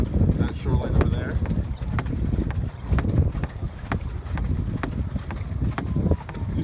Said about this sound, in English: it's breezy, and so the wind will just kind of take you wherever the wind is going